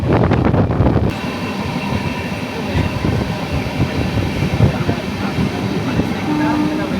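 An Ernakulam–Bangalore Intercity Superfast Express train with LHB coaches rumbles steadily along the tracks at about 40 km/h, with continuous rolling and clattering noise, fairly loud and close, with a faint tone creeping in near the end.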